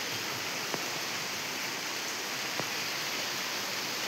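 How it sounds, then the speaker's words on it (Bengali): Steady rain pours outside a house by a balcony, a dense, even hiss that fills the whole stretch, with a couple of faint ticks from drops and no talking. "এইদিকে বৃষ্টি পড়ছে"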